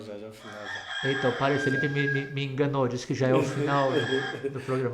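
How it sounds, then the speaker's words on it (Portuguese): A rooster crows several times in the background under continuous close talk, its calls rising over a steady spoken voice. "Olha o galo cantando."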